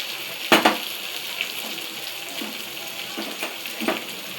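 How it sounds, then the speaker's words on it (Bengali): Potatoes and onion fry in oil in a pan with a steady, close hiss and sizzle, broken by a few sharp scrapes of stirring. "তেল পেঁয়াজ দিয়েছিলাম, আলু ভাজছি।"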